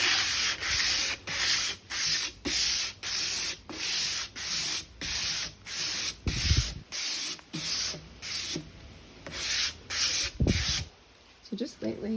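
A wooden nightstand finished in chalk paint is sanded lightly by hand in steady back-and-forth strokes, each a close, raspy scrape with a brief pause between, repeating about a dozen times.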